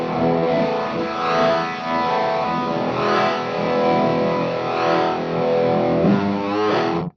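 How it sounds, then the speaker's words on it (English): Electric guitar wet signal only, run through an MD200 effects unit into a Harley Benton Thunder 99 stereo power amp, giving a sustained, chorused and modulated tone with swelling chords and no talking. "So that's the MD200 going into the Thunder 99 in stereo."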